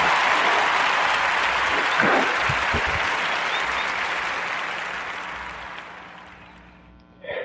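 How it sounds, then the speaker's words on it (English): A live audience claps for a sports complex being recognised, broad sustained applause that gradually fades over several seconds before a brief burst at the end. "join me in giving the Warm Narrative Podcast round of applause"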